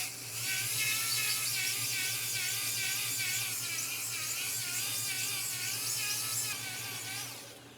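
A cylinder hone spins inside a bore of a 351W stroker engine block, a steady high whirring grind held for several seconds at close range, no talking, then tapering off as it stops.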